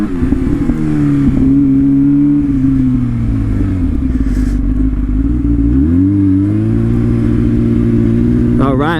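A Yamaha R6 sportbike engine drones loudly and close while riding, pitch rising and falling with throttle changes and gear shifts, with heavy wind buffeting throughout.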